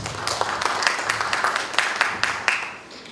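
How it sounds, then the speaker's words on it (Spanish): An audience at a lecture on territorial planning claps for the speaker, Dr. Carlos Mesa, a moderate room-filling patter of hands that tapers off toward the end. "Le damos fuertes aplausos"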